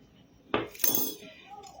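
A spoon clinks and scrapes against a bowl in two quick strokes, stirring a bread dough mixture with flour, close up and fairly quiet, with no voices.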